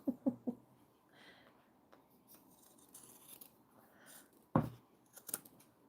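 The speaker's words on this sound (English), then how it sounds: "So I'm just chopping that zipper back" Scissors snip back a zipper on a vinyl pouch, a few quick close crunching cuts at the start, then quiet handling, followed by another sharp burst of snips near the end.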